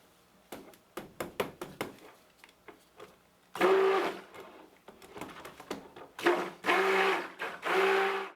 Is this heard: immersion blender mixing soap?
yes